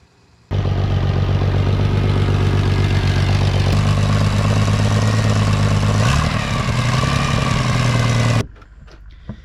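A 1970s boat engine runs loudly and steadily with a rough, clattering drone, its pitch shifting briefly midway before it suddenly cuts off.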